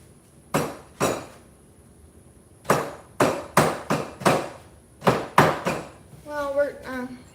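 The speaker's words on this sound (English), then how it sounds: "Tap the cookie on your workbench and it may come off." A glazed ceramic cookie from a kiln is rapped against a workbench in sharp hard knocks, first two, then a quick cluster of several, close and crisp, with a brief voice near the end.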